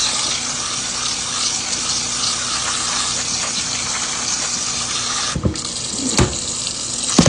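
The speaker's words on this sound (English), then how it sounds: "Now I'm just going to start rinsing them off." Tap water runs steadily over pinto beans being rinsed in a kitchen sink, a continuous near gush with a couple of brief clatters near the end.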